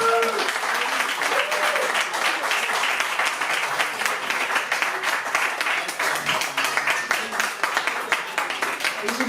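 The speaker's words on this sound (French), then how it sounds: "je vais vous demander s'il vous plaît un tonnerre d'applaudissements pour Cyril qui se trouve" Concert audience applause fills the hall, dense and sustained clapping from a large crowd that carries on evenly, with a few voices rising over it.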